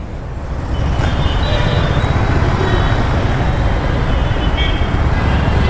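Heavy road traffic in a busy Indian city, a dense, continuous rumble of cars and buses with faint horn toots, loud and steady throughout with no clear pauses.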